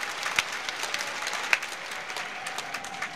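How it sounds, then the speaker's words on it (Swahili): Audience applauding the Prime Minister at an official event in Dar es Salaam, moderate steady clapping from a crowd with a few sharper individual claps, no talking. "Naomba tumpigie makofi mengi sana Mheshimiwa Waziri Mkuu."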